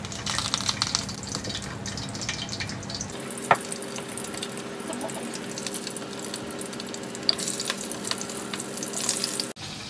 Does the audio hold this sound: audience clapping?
no